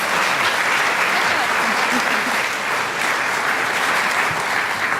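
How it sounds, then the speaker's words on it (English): Sustained audience applause for a conference panel, a dense, steady roar of many hands clapping at even loudness throughout, with no voices standing out above it. "So just another round of applause"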